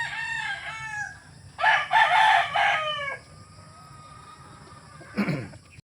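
A Mel Sims Black gamecock rooster crows nearby, a short call followed by a loud, drawn-out cock-a-doodle-doo, then a brief squawk near the end, with a soft background hum.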